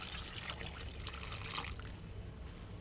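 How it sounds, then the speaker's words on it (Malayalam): Water being poured into a vessel while preparing a homemade hair-care mixture, a steady trickling and splashing that stays constant and close for the whole stretch, with no talk. "അപ്പോൾ നമുക്കിനകത്തേക്ക് വെള്ളം ഒഴിക്കാം."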